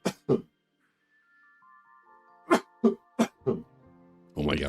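A person coughs hard during a live card-opening stream: two sharp coughs, a pause, then a burst of four rapid coughs, close and loud, followed by the start of speech.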